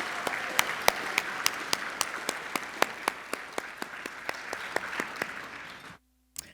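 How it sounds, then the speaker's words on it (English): Applause at the 2023 Florida Inventors Hall of Fame ceremony: a steady wash of audience clapping with sharp, evenly spaced claps from someone close by, ending abruptly in near silence. "Let's please give them a round of applause."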